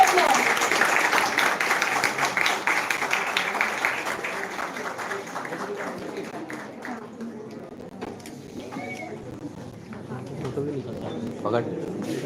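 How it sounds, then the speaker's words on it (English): An event audience bursts into lively clapping that gradually dies down, followed by a voice speaking over the room, with pigeons cooing nearby in the background. "Kindly give a big round of applause."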